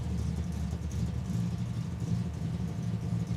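A Holden VL and a little 6-cylinder Ford Cortina idle together at a drag raceway, a steady, rumbling low engine drone heard at moderate distance without any talk.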